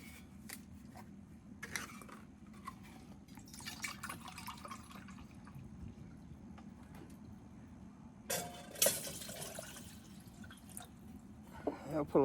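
Water is poured into a cooking pot on a running camp stove inside a Pomoly Dome X6 hot tent to boil for tea. A soft, steady trickle runs through the clip with occasional clinks and knocks and low background rumble.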